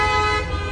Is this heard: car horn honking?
yes